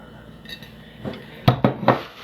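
A few sharp clinks and knocks of a one-gallon glass jar being set down and handled, close by, three distinct hits in quick succession.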